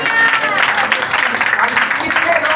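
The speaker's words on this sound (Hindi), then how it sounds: "तो इसके लिए तालियां बजा दी।" A church congregation claps loudly during an Easter celebration service in Panipat, the close, busy applause mixed with voices talking over it.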